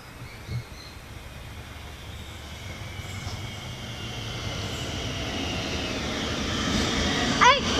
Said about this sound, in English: Siemens coming into Malvern platform number 2.